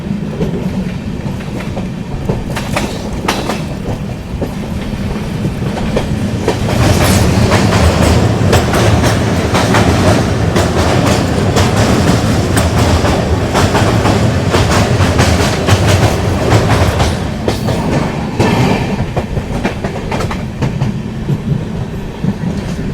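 Kolkata–Sairang Express rolling along with its banker locomotive, a steady loud rumble of wheels and carriages with rhythmic clickety-clack over the rails, growing heavier midway and holding close and continuous throughout.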